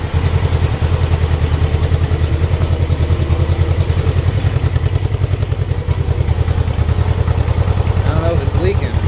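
A Honda CB motorcycle, a CB360 or CB550 Super Sport with freshly fixed fouled plugs, idles steadily and loudly nearby with a fast, even, thumping exhaust pulse.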